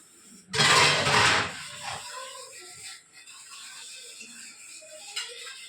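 A loud clatter of dishes, pans and a pressure cooker being scrubbed and rinsed up close, then softer clinks and scraping that continue for several seconds.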